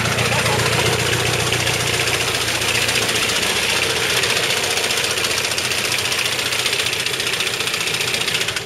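A 1.9 diesel engine swapped into a car, starting and running loud and close, a continuous idling rumble with a rough, knocking rhythm and no pauses.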